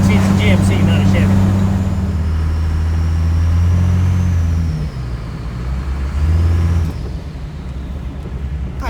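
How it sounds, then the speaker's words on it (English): Cummins diesel-powered GMC pickup truck on the road, its turbo whistle riding above a deep steady engine drone, heard from inside the cab while people talk over it. "I love that turbo noise."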